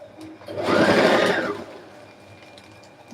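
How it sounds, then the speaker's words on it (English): A sewing machine stitches plastic boning into a corset, one close, steady whirring run of about a second that swells and fades, with faint room noise around it and no talking. "Make sure that when you're sewing boning, the fabric is laying flat."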